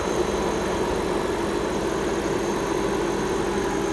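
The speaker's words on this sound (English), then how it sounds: "Man, that is a smooth engine." A 2008 BMW 750Li engine idles steadily and smoothly, a constant low rumble with no revving and no voices.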